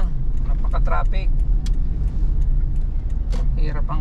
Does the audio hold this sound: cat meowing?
no